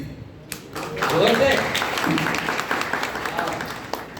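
Applause from a school audience at an event, a moderate burst of clapping rising after a second and continuing steadily, mixed with crowd murmur and some talking.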